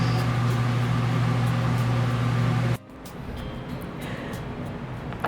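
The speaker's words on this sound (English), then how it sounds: "Put it in the oven, toast it, get it all nice and toasty for our sandwich." An oven humming steadily while an English muffin toasts inside, a loud continuous low drone that cuts off abruptly partway through, leaving a quieter room hiss.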